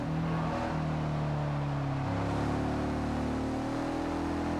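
Audi RS7 Black Edition in Forza Horizon 2 revving through a tunnel, a deep continuous engine roar that steps up in pitch through shifts, loud and close for the whole stretch.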